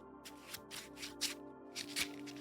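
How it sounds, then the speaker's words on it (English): Playing cards are shuffled by hand in a handful of quick riffling bursts, close and soft, with no one speaking. "I'm going to shuffle again"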